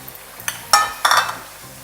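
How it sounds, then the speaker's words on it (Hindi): Yogurt cooks down over low heat in a karahi with chicken, with a couple of short, bright sizzling bursts and spoon scrapes close by, brief and fairly loud, with no voices. "दही की भुनाई करनी है।"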